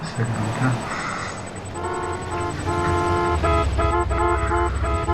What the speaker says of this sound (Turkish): korna çalmayın